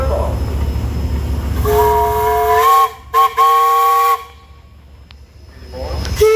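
A steam engine's whistle blows loud and close during a parade at a steam engine and tractor show, one long harmonic blast with a brief break, then a short final toot over a rumbling background.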